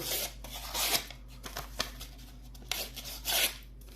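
A Ganzo G627 EDC folding knife slices through paper at close range, giving several short rasping swishes and scratchy cuts with brief pauses between strokes, no talking.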